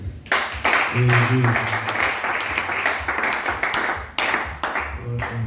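Congregation in a church applauding steadily, dense clapping throughout with a voice speaking over it and brief pauses near the end.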